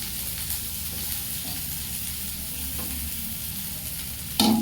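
Chopped garlic fries in hot oil in a pan for dal, a steady close sizzle running throughout with light stirring, swelling into a louder burst of frying right at the end.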